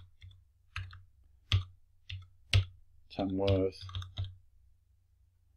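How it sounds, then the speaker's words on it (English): Several sharp, separate key clicks from typing on a computer keyboard, spaced apart and close to the ear, with someone speaking briefly in the middle. "I'm going to type in some information"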